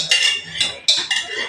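Metal utensils clink and scrape against a pan and plate as plain Maggi noodles without vegetables are served, a few close, sharp taps over about a second and a half.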